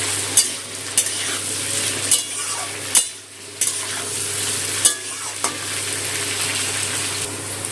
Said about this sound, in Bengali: পেঁয়াজটা আলুর সাথে ভেজে নেব।